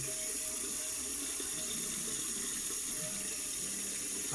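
Warm water running steadily from a tap into a sink during a face-washing routine, a continuous close hiss with no speech.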